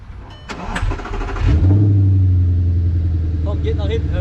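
An Audi R8 with a 420 PS V8 fires up after brief speech and settles into a loud, deep, steady idle close by, with a slight blip near the end.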